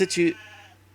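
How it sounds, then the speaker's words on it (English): A sheep in an RPG Maker VX Ace game gives a short, wavering bleat, loud and close, that trails off into a low hum. "It's just a sheep."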